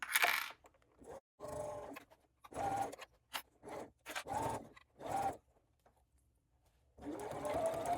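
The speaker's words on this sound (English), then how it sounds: "Just following the curve straight up to the mark that we made in the beginning, and back stitching well at the peak of that dart" A sewing machine stitches a dart on a backpack in short bursts of fast mechanical whirring separated by pauses, including back stitching, close and clear, with no one speaking.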